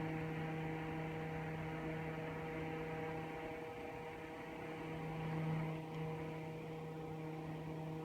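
A small handheld dryer runs on a cat's-eye painting, giving a steady, even electric hum and whir that holds at one level throughout with no talk.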